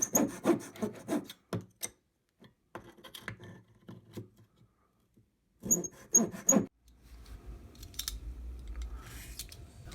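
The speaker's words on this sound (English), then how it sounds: "I'm just going to make this cut a little bit deeper, because this will be tapered for the mast." A craft knife cuts into a wooden block being carved into a tapered model ship mast, giving short close scraping and rasping strokes in bursts separated by quiet pauses.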